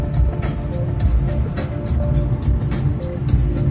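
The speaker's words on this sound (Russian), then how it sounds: "Вот на второй передаче просто мы идем на небольших оборотах, вот 1500 оборотов у нас." A Lada Granta in second gear at low revs, around 1500 rpm, gives a steady, loud engine drone blended with road and cabin rumble throughout, with no talking.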